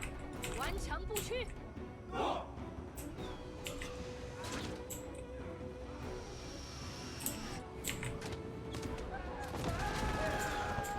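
A volley of arrows loosed by archers in the Yuan Shu strategy video game, a dense crackling battle din of overlapping impacts and clatter over rumbling noise, mixed with faint voices.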